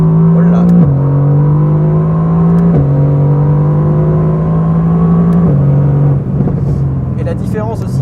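A Mercedes-AMG GT R with 585 horsepower, heard from inside the cabin, revs in a loud, steady drone that drops in pitch at three gear shifts and then lets off with crackles from the exhaust.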